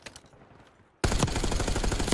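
Rapid automatic gunfire in the Black Ops 6 beta shooter erupts loud and sustained after a quiet second, dense bursts of shots filling the rest of the moment.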